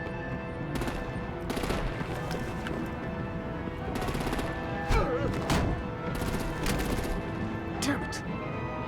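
Artillery fire in Batman: The Enemy Within, rapid bursts of heavy automatic gunfire and sharp impacts that come and go in waves over a busy background of music and effects.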